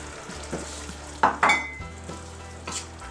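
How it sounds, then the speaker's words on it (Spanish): Chicken broth poured into a hot pan for a tomato and spice chicken stew, giving a soft sizzle with a few sharper hissing bursts and light utensil stirring, close and moderately loud, with no talking. "Vertemos el caldo de pollo"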